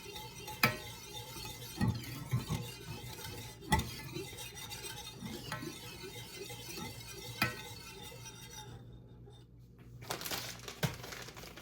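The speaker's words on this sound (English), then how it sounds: "I need to stir this for at least 2 minutes until it gets thicker" A milk, butter and flour sauce is stirred as it thickens, with soft scraping, swishing and occasional light clinks of utensil against the pan, quiet and close.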